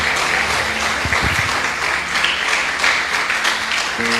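A church congregation applauds during a sermon, a dense, steady wash of clapping filling the hall, with a brief low musical note and murmuring voices underneath.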